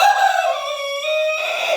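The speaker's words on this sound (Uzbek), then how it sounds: "mana xo'rozlarimiz qichqiryapti." An Adler breed rooster crows loudly and close by, a single long drawn-out crow that holds strong harmonics, then dips and rises again before ending, with no talk over it.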